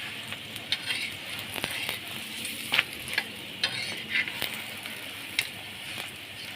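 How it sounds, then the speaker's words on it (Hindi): An egg paratha fries in a pan with a steady close sizzle, interrupted by scattered clinks and scrapes as it is turned, alone without talk. "इस तरह से आपने इस पराठे को घुमाना है ताकि अच्छे तरीके से दोनों साइडों से"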